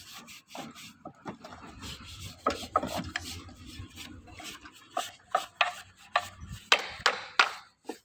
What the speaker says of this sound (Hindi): हम ऐसे ही सभी क्यूब्स को की ऑयलिंग करके रख देते हैं।